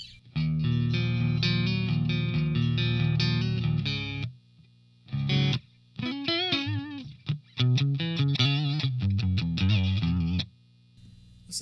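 A clean electric guitar tone through a B-52 ATX-100 amp plays sustained chords, then a run of quick single notes and bends, with short silent gaps between phrases.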